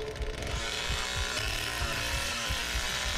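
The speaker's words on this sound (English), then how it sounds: "Turn the chainsaw on so I know where you are." A chainsaw runs continuously in the Texas Chainsaw Massacre game, a buzzing, droning engine with low thumping pulses underneath, steady and moderately loud.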